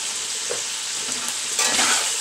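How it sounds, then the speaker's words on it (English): Steady bright sizzle of sauerkraut casserole frying in a pan, growing a bit louder and fuller toward the end, with occasional faint stirring. "And continue to fry this up."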